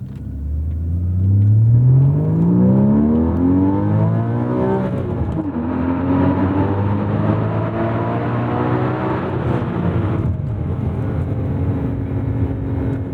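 A 2016 Porsche 981 Boxster GTS flat-six revs up hard in Sport mode, its pitch climbing steadily, then settles into a loud, sustained howl with a brief dip around a gear change.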